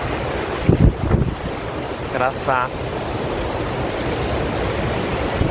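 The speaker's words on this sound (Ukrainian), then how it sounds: "Подивіться, яка річка" Mountain river water flowing in the Bavarian Alps near a dam, a steady broadband rush throughout with wind buffeting the microphone and a brief spoken word partway through.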